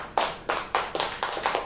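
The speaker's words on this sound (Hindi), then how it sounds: "ताली बजेगी कि नहीं" Hands clap in a steady, somewhat sparse rhythm at a church service, about seven sharp claps spaced under half a second apart, fairly close and with no talking.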